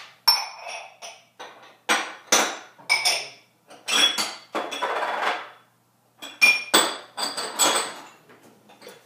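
Glass ramekins for freezer chocolate mousse clink and knock as they are handled, with a run of close, bright, irregular clatters and taps coming in bursts with short pauses.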